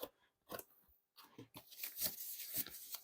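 Cardboard and plastic packaging of a SADES wireless Bluetooth keyboard being torn and handled during unboxing, a series of close, crisp ripping and crinkling bursts with short pauses between them.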